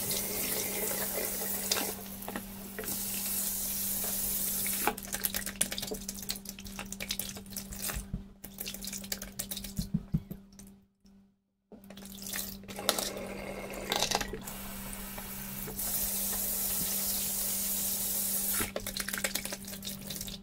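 Tap water runs hard into a sink while a dirty Mercedes Vito W639 rear cabin filter is rinsed, a loud continuous splashing spray that briefly stops and then resumes, with no talking.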